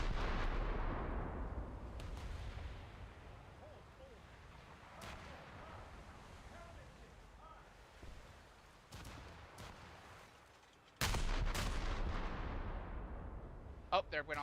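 Torpedoes are launched in a naval combat video game. Deep booming launches and gunfire rumble continuously and fairly faintly, with a sudden louder burst near the end.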